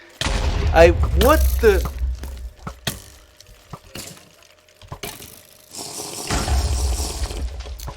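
Several sharp grenade blasts and bursts of gunfire in the Minecraft modpack Enigmatica 9, arriving in separate clusters with quiet gaps between them, while someone speaks briefly near the start.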